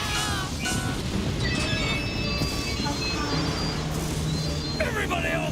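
A train rumbles along with squealing, whistling metallic tones over a dense low roar, loud and close throughout.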